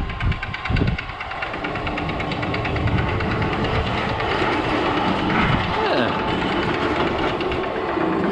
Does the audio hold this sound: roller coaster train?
yes